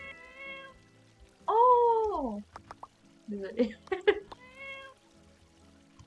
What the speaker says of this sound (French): Oh, le chat!